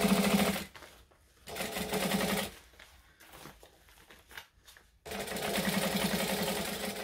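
A sewing machine stitching a quarter inch seam runs in steady whirring bursts, stopping briefly with soft fabric rustles and handling noises in between, then starting up again for a longer run, close and moderately loud.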